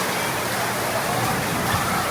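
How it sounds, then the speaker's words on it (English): Heavy rain pours down at the Dollywood theme park in a steady, dense hiss, loud and unbroken throughout. "That is the most rain I've seen here in a long time."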